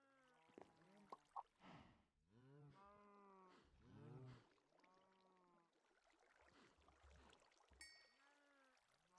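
Cows in the Minecraft modpack Stoneblock give a few low, drawn-out moos, spaced apart with quiet gaps and mixed with other soft in-game sounds.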